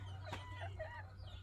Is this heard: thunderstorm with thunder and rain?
no